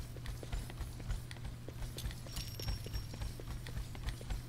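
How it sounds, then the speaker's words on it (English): Rapid, loud footsteps from a video game character thud in a steady running rhythm, close and continuous, with no voices over them. "I hate playing this character because his footsteps are so loud"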